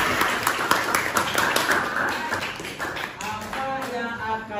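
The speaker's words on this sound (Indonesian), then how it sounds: "Oke, tepukan buat teman kita." Classmates clap for a fellow student in a classroom, a dense run of sharp claps lasting a few seconds and thinning out toward the end, with faint voices underneath.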